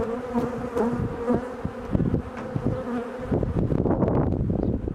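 A dense, continuous buzz of many honeybees during a hive inspection, close by and steady, with the droning swelling slightly louder toward the end.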